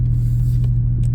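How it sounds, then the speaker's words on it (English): A Kawasaki Ninja motorcycle engine running close by, giving a loud, steady, low idling rumble throughout a brief moment with no talking. "Got the Ninja motorcycle, putting him on the channel."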